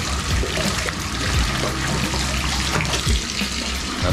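Hot water gushes from a tap into a bathtub, a loud, steady rushing pour with splashing, close by and continuous without voices.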